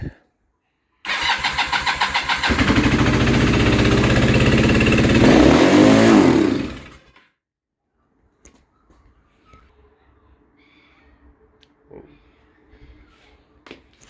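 A Kawasaki KZ440 motorcycle engine cranks and catches, running loud and close with a steady rough idle before rising and then cutting out abruptly, followed by quiet with faint handling clicks.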